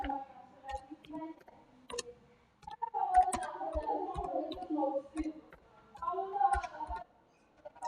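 Computer mouse clicks while a PowerPoint slide is being built, a scatter of sharp, close clicks spaced irregularly and mostly under a person speaking.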